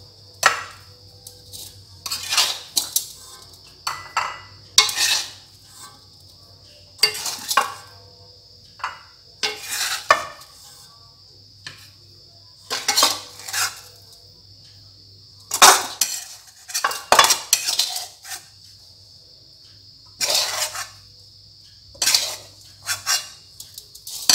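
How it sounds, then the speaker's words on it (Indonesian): Fried rice scooped from a pan onto three plates, heard as repeated close clinks and scrapes of a utensil against dishes and cookware in irregular bursts, with a steady low hum underneath. "ini nasinya udah diangkat terus disajikan ke dalam piring seperti ini"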